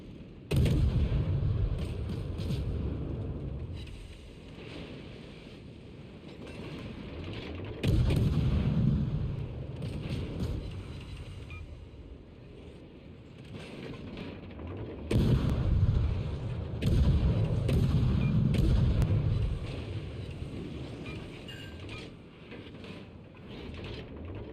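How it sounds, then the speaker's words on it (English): Heavy naval artillery fire at an enemy warship in a video game sea battle, with deep booming salvos that come in waves and swell, then fade, repeating over a long stretch without any voices. "Concentrate fire on the enemy warship."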